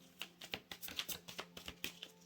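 A deck of tarot cards is shuffled in a quick, irregular series of soft taps and riffles, close but quiet, with no talking.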